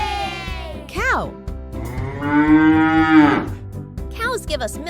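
A cow from a children's farm-animal lesson gives several loud moos, one short call, then a long sustained bellow and a brief final low, close and clear over light background music.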